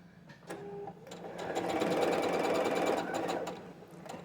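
A Brother sewing machine runs steadily at moderate speed for a few seconds, a quiet mechanical whir with rhythmic needle ticking that starts, holds and eases off, heard alone without talk.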